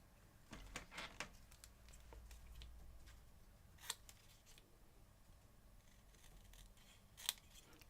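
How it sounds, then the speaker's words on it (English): Scissors snip through paper during cardmaking, a few quiet scattered cuts and rustles over a steady low hum, with no voices. "So I'll just cut this down."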